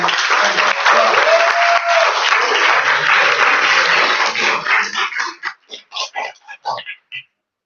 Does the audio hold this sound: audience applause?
yes